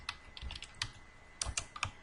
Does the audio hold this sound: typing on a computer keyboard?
yes